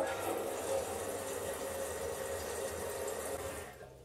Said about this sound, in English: If it's all dry, but you still hear your toilet refill once in a while